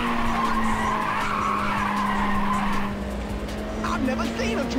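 A car drifting in the racing video game Ridge Racer on PSP, with a loud sustained tire squeal lasting several seconds over engine noise, fading near the end, while a voice talks.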